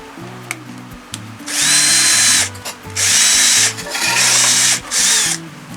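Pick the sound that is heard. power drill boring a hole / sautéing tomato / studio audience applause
power drill boring a hole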